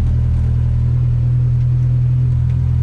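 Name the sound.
GLTC race car engine while driving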